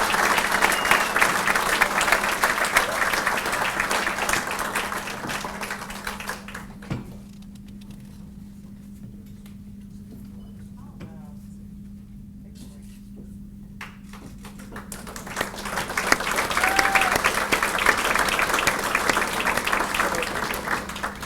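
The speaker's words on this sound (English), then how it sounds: "So give him a round of applause, please." Dense crowd applause at an annual military achievement awards ceremony swells, then drops to near quiet for several seconds with only scattered faint noises. It rises again into a second full round of clapping from a large audience.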